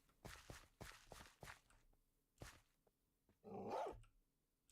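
A Minecraft dog (wolf) barks in the video game: a quick run of short, sharp woofs in bursts, then a louder, rougher bark-like sound near the end, all fairly close and clear with no talking.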